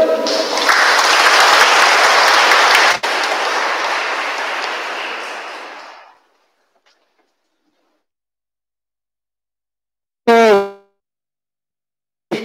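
Church congregation applauding during a Mass, a full burst of clapping for about six seconds that tapers off into silence, followed later by a brief tonal sound.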